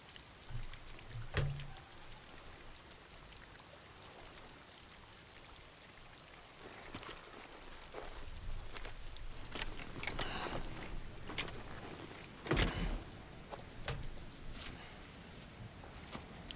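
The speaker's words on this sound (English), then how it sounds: "Sure, let's wait out the rain over here." Steady rain falling in the Death Stranding game, a soft continuous patter and hiss with a few sharper splashes and thumps, faint and alone.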